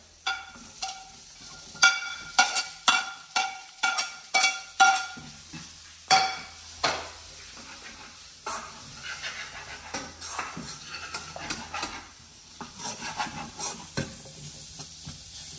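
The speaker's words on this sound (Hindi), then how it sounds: "पेस्ट को भूनने के बाद मैं डालता हूं इसमें अनियन।" Onions tossed into a pan with paste and stir-fried for soya chunks manchurian, giving repeated close scraping stir strokes over a steady sizzle, rhythmic at first and then a denser fry.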